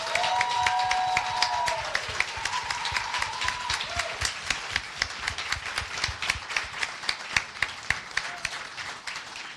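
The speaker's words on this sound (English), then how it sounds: "let's just give them a real shout out and round of applause as well" Applause at a demo day reception, a small crowd clapping in a rhythmic, near-unison beat that becomes clearly pulsed, with a few voices and whoops over it early on.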